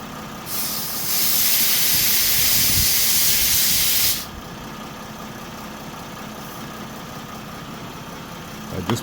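Compressed air bursts out of a Mercedes OM642 diesel timing chain tensioner in a loud, steady hiss lasting about four seconds, then cuts off, leaving a quiet workshop background.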